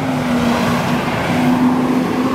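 A tow truck passing by on a city street, a loud, close, continuous engine and road roar that holds steady across the short stretch with no talking.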